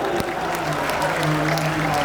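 A crowd at a Bhojpuri music show claps together in dense, continuous applause, loud and close, with a faint hum beneath.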